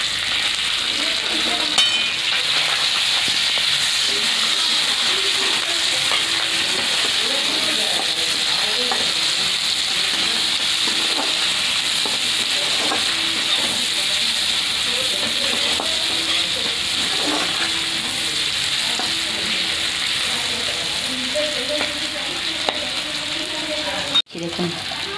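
Chopped garlic, green chili and onion frying in a pan for chicken noodles, a loud, dense, unbroken sizzle with faint stirring scrapes and a sharp knock near the end, background voice faint.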